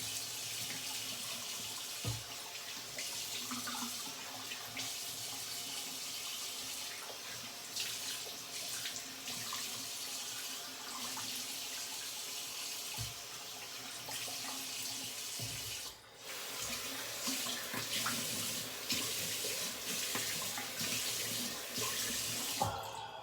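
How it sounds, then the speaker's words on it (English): Tap water runs steadily from a faucet into a sink while a safety razor is rinsed, a continuous close splashing flow with brief interruptions and no talking. "Gonna rinse, bear with me."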